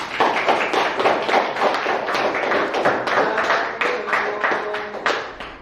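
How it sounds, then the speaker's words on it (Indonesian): High school students in a classroom give a round of applause, steady and fairly loud, with many hands clapping for several seconds before tapering off. "Boleh tepuk tangan?"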